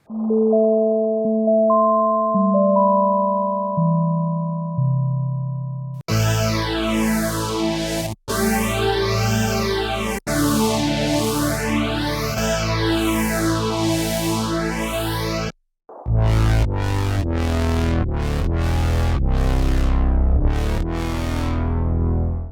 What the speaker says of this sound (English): This is a virtual analog polyphonic synthesizer.